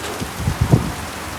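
Unseasonal heavy rain falls in a steady wash of noise, with a few dull low thumps rising and fading through the middle.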